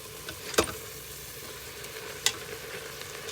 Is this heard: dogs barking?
no